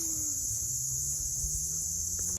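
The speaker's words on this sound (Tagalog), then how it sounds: "Makuliglig yata yun. O insekto." Insects chirping in a steady, continuous high drone, probably crickets or cicadas, around a quiet beach campsite at Bangan Beach Camp in Paluig, with a faint low hum underneath and no talking.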